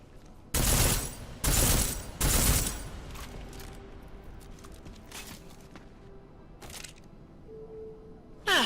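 Bursts of gunfire from a weapon in Deus Ex Mankind Divided: three loud, rapid volleys in the first few seconds, followed by quieter scattered game clicks and a faint tone.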